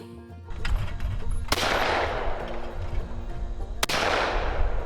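Shotguns fire at sporting clays on an outdoor course, two loud blasts about two seconds apart, each trailing off in a long rolling echo over steady background noise.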